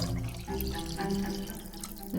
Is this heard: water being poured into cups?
yes